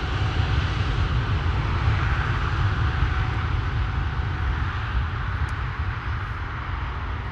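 A KLM Boeing 777-200 jet at Amsterdam Schiphol Airport gives off a continuous, heavy engine rumble and roar, loud and steady from start to finish with no voices.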